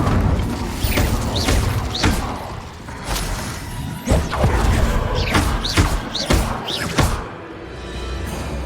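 The Incendio fire spell in the video game Hogwarts Legacy sounds as a run of repeated whooshing bursts and heavy thuds in an irregular rhythm, loud and up close, with no speech.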